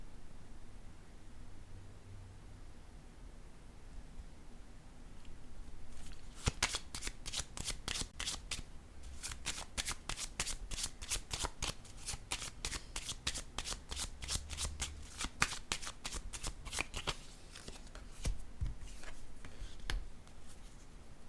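Oracle cards are shuffled in quick, crisp riffling bursts after a quiet start, then slapped and laid down, a close, rapid patter of snaps with brief pauses and no talk.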